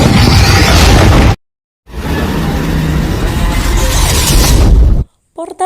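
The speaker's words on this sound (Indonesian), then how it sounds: "membuat Rathalos meledak di bagian dalam tubuhnya" Cinematic explosion of the dragon-like Rathalos monster blowing apart from inside its body: a loud roaring blast, a brief silent gap, then a second long rumbling burst with debris, ending in a few short clipped hits.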